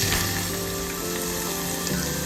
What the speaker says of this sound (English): add some coconut oil. Add crushed garlic,